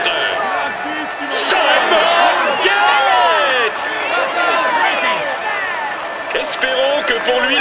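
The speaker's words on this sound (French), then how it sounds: "vous pouvez l'applaudir bien fort" At a Giro d'Italia 2022 stage podium, a crowd applauds and cheers the cyclamen jersey holder. The applause is steady and busy, and lively whistles and shouts mix in over roughly eight seconds.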